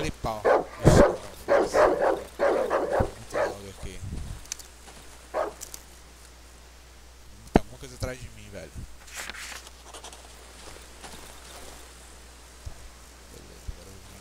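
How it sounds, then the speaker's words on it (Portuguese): Dogs bark in the dark survival horror game Darkwood, with a burst of loud, close barks and yips at the start, then fainter, sparse barks and noises. Someone talks over them. "Cachorrada ali"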